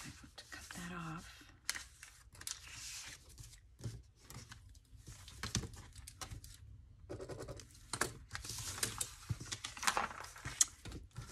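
Paper being ripped and cut with scissors while making junk journal ephemera, with several tearing and snipping bursts scattered through the clip and a person talking over much of it.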